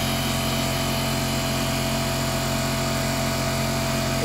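A Central Pneumatic 21 gallon 2.5 HP reed valve air compressor motor with a leaking airline runs with a loud, steady, droning whine that stays constant throughout, with no speech.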